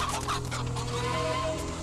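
A chicken kept in a house clucks in a short burst of soft, repeated calls in a film scene, close by and fairly quiet.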